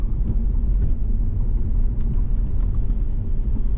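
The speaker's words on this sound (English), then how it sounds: "the traffic is now too much" Dense city traffic in a central square heard from inside a Lexus IS250 with the air conditioning running, a steady low rumble of engines and road noise filling the whole stretch without any clear standout events.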